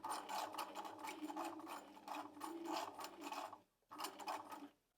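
A Bernina 1008 sewing machine stitches a buttonhole with a rapid, rattling mechanical whir, steady and close, broken by a brief pause before running again and stopping.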